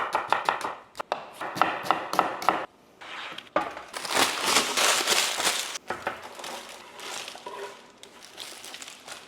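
A knife chops an onion on a board in quick, close taps, first in short clusters, then in denser runs of rapid cuts after a brief pause.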